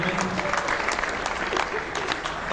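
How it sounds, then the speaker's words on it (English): An audience applauds a round of applause for two honored guests, a dense, steady clapping that fills the room throughout. "Stand up, please, so we give them a round of applause"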